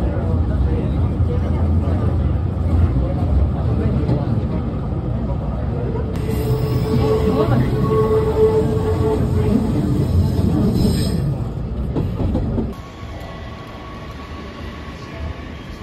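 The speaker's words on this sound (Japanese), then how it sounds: "こちらの9300系という電車に乗っていきます" A Hanshin 9300 series electric train runs with a loud, steady low rumble of wheels and motor that rises into a whining drone midway, then drops sharply to a quieter hum near the end.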